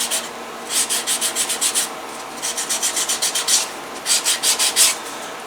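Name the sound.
burnishing the edge of a leather holster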